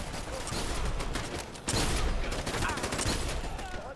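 Rapid gunfire from the video game Dirty Bomb crackles in dense, overlapping bursts, loud and continuous with a sharper surge midway, under faint voices.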